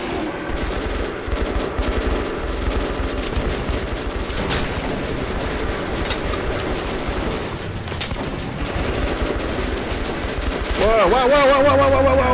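Rapid gunfire rattles in the Metro 2033 Redux video game, dense bursts running almost continuously alongside game noise, with a shout-like sweep near the end.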